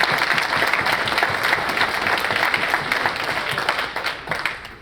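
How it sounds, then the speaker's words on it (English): An audience claps together for people in recovery, a dense, steady applause that fills the room and holds strong throughout, fading slightly near the end with no talking over it. "can we get a hand clap for those people in recovery?"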